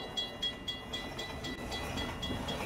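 A train rolls past in the Half-Life 2 video game with a steady rumble. Evenly spaced metallic clacks repeat about every quarter second, moderately loud and with no talking.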